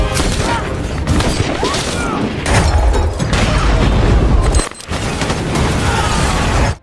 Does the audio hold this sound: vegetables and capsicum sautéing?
no